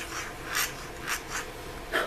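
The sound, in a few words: pointed pen calligraphy nib writing with iron gall ink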